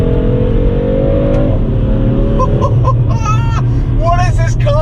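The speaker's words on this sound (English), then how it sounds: "the sounds that this car produces off a stock exhaust system" A BMW M3 on its stock exhaust system, fitted with winter tyres and driven with traction control off, revs loudly and climbs in pitch over a continuous low engine roar, with faint voices mixed in.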